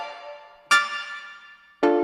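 Chord stabs from a Prophet 12 rack synth in Ableton Live: a sustained chord tail decays, then two sharp, bright stabs strike about a second apart, each ringing out briefly.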